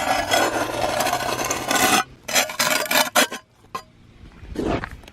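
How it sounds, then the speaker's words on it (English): A steel trowel rasps along a concrete block wall, scraping off excess mortar in a few close, gritty strokes. The scrapes come in short bursts separated by brief pauses, with no talking. "I'll scrape off any excess mortar, put it back on my board."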